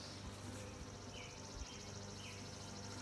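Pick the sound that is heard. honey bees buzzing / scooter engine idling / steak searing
honey bees buzzing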